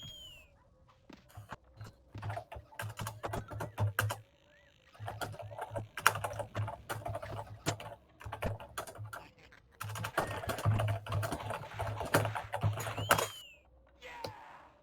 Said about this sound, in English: That's a lot of typing noises you're putting on the stream right now